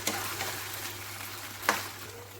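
Marinated paneer pieces fry gently in ghee and refined oil on a low flame, giving a steady, soft sizzle throughout with a brief louder crackle or spatter near the end; no one speaks.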